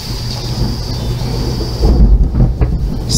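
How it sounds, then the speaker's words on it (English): Steady rumbling storm noise with a deep roll of thunder swelling midway, blended with rain-like hiss and wind buffeting the microphone. "it is storming over here. We've got a thunderstorm going on."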